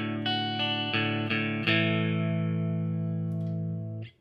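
Distorted electric guitar through an MXR Distortion Plus pedal with extra reverb, chords strummed several times, then a long ringing chord that sustains with reverb before cutting off.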